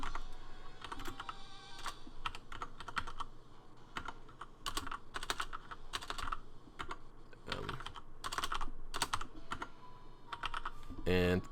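Keys clatter on a computer keyboard in irregular bursts of close, crisp taps, with short pauses between groups and a faint background hum.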